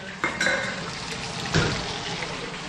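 Water is poured into a pot of rice, a short close splashing and gurgling with a couple of light knocks against the pot, and no speech.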